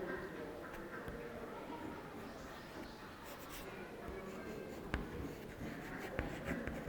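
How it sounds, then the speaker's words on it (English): Pen or marker scratching across a board or paper as a maths example is written out in a classroom lesson, soft, close scribbling strokes with a few sharper taps. "I will write another example."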